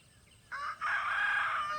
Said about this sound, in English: so you can hear the roosters crowing.